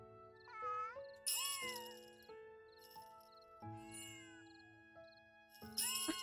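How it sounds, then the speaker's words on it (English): A kitten playing with a jingling toy in the game Little Witch in the Woods, with soft meows and light bell tinkles among chiming game music. "I hear the other kitten play with her toy off screen"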